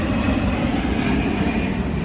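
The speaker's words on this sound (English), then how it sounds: "It's weird having airplanes fly over all the time," An airplane passes overhead at an amusement park, a steady broad roar holding level throughout the short stretch.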